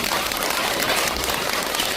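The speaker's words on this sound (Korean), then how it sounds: "박수 한번 주세요" A congregation applauds during a Buddhist Dharma talk at Beomeosa temple, a dense, continuous patter of many hands clapping, fairly loud and close, with no speech over it.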